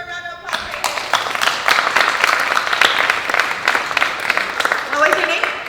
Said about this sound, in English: Give this person a round of applause.